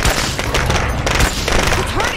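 Rapid gunfire from the zombie survival video game State of Decay 2 crackles densely through the whole moment, loud and continuous, with game noise and faint voices mixed underneath.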